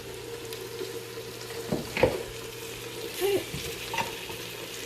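Yellow pear, orange and chocolate cherry tomatoes drop into a sizzling pan of caramelizing vegetables for tomato soup, with a steady close frying hiss, a few stirring clatters and soft splashes.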